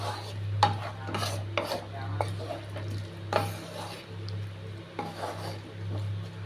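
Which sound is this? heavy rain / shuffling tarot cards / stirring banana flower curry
stirring banana flower curry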